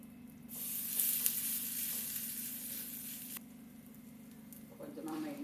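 Poha (aval) frying in oil in a kadai gives a faint, crackly sizzle that swells for a few seconds and then settles into a quieter hiss, with light stirring noises near the end.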